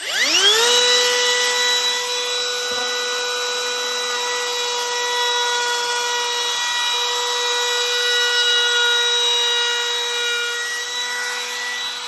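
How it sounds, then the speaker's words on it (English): A Bauer router with a quarter-inch round-over bit shapes the edge of a wooden side shelf. The motor whines up to speed, then holds a loud, steady high-pitched drone throughout. "Just going to use a little 1/4-inch round over bit here on the Bauer"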